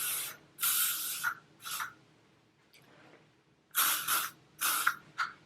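L'Oréal hairspray misted onto hair in a series of short aerosol bursts, several hissing sprays of about half a second to a second each with quiet gaps between them, close and crisp.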